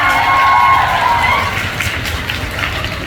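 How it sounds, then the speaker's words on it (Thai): An audience at a fan-club birthday Q&A event applauds and cheers, a loud, dense burst that is strongest at the start and then tapers off slightly, with scattered voices in the crowd. "ขอเสียงปรบมือให้คุณตาลค่ะ"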